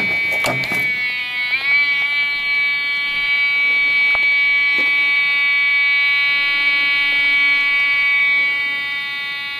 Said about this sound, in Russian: Этот сигнал зуммера о смертельной опасности.